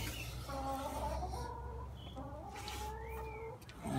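A chicken clucks softly and close in short, scattered bursts over a quiet outdoor background, with no talking.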